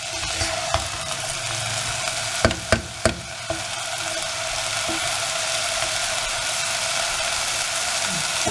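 Vegetables sauté in a pan for veg wheat upma, giving a steady low sizzle with a few sharp clinks of a stirring spoon against the pan early on, with no talking.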